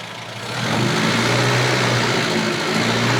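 A classic Mini engine on a tuning setup with an AH2 carburettor needle revs up from idle and holds a loud, steady high-rpm drone, close and unbroken, with no speech.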